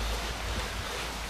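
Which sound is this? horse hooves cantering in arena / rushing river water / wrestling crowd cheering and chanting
rushing river water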